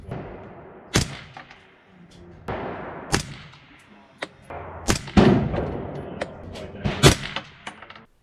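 Gunshots from a 24-inch AR-15 rifle in 5.56 fitted with an OCL Polonium muzzle device, six or seven sharp, loud reports spaced a second or two apart, with a faint voice and low rumble between shots.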